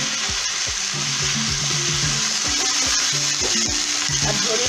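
Cabbage frying in a pan for Bengali panchmishuli chochchori, a steady close sizzle with stirring clatter running through it and a low hum underneath.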